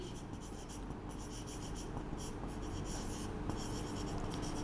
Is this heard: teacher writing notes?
yes